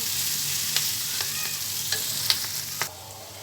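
Chicken and egg being stir-fried for fried rice, a constant close sizzle with several sharp clicks and scrapes as a utensil stirs the pan at irregular moments, without any talking.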